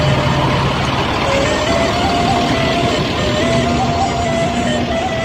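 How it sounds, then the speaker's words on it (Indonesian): An intercity bus bound for Java idles and moves off at a bus terminal, its engine a steady close rumble with a rising whine, amid the general bustle of the terminal and faint voices. "Dan ini adalah bus yang terakhir yang akan berangkat ke Pulau Jawa"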